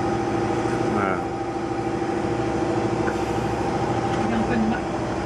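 A boat motor hums steadily and close throughout, a continuous low drone with harmonic bands, while voices talk over it at moments.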